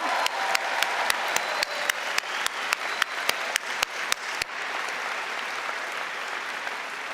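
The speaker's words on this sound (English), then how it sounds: "Let's give them a round of applause." A convocation audience applauds new university graduates in a steady, full round of clapping, punctuated at first by sharp, evenly spaced beats that stop partway while the applause carries on.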